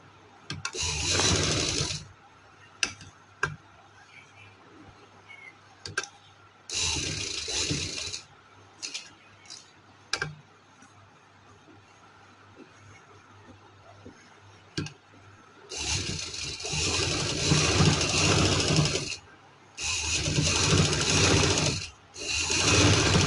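A sewing machine stitches trouser fabric in several separate runs of rapid, whirring stitching, each lasting a few seconds, broken by quiet pauses with small clicks and handling noises close by.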